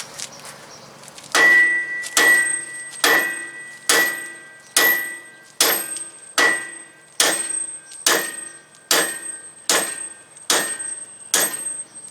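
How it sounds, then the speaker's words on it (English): A hammer strikes big-truck wheel studs about a dozen times at a steady pace, each blow loud and ringing briefly before the next. "Go into a bigger hammer."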